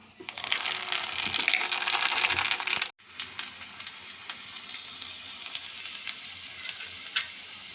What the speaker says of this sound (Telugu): ఎండుమిర్చి చూడండి ఎంత చక్కగా తాళం చేసుకుంటున్నాను